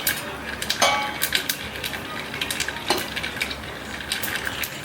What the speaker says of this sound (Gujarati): તો તો અહીંયા નાયલોન ખમણનો વઘાર ચાલુ થઈ ગયો છે